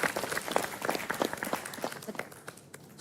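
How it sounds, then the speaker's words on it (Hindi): Studio audience applauding on a competitive sports reality show, a steady scatter of claps at moderate level that thins out toward the end, with some faint voices mixed in. "सबके लिए दिल से तालियां भाई, सबके लिए भाई"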